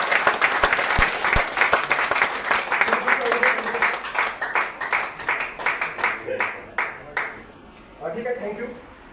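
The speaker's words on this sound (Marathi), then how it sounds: "एकदा सरांसाठी टाळ्या वाजवूया आपण." Seminar audience applauding a speaker, a dense run of hand claps that thins toward the end into scattered claps, with a brief voice near the close.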